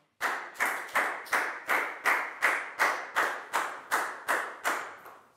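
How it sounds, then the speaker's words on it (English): A Year 4 math class claps for a student in a steady, even rhythm: about a dozen sharp claps in unison, evenly spaced, with no voices. "Big round of applause for Lakgao, please, guys."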